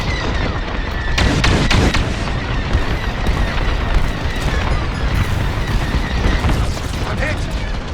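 Starfighter laser cannons fire in a Star Wars Squadrons space battle, with a dense stream of booming shots and blasts swelling loudest in the middle against a constant roar of engines and explosions, under occasional radio chatter.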